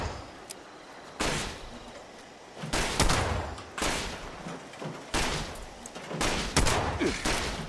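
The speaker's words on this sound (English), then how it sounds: "Oh, that's a shot. There's someone else shooting over there." Gunfire in the video game Fallout 76 comes as repeated loud, broadband bursts and volleys, some close and sharp, others more distant, spread over several seconds with short gaps between them.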